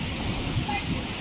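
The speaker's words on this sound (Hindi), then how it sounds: "हमारे गांव आते ही तूफान आ गया।" Steady storm wind in a village rushes and buffets the microphone, making a dense, moderately loud noise that does not let up.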